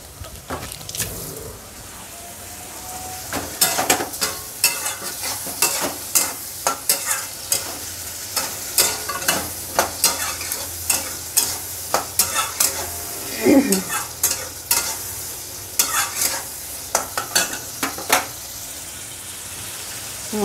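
Spice masala with green chillies stir-fried in a pan, with loud rhythmic scraping strokes of a spatula over a continuous sizzle, close and without speech.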